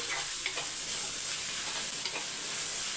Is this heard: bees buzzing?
no